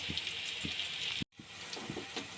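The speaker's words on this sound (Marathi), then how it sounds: "कांदा छानपैकी आपल्याला इथे परतून घ्यायचा आहे" Chopped onions sauté in a hot pan with an even, close sizzling hiss. Soft spattering pops run underneath, and the sound cuts out for a moment partway through.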